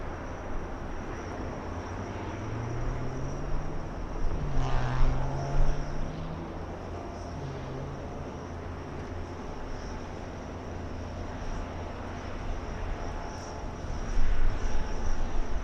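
A Lufthansa airliner at LAX airport gives a steady, distant jet roar over a continuous wash of noise, with a faint rising whine midway through and no talk.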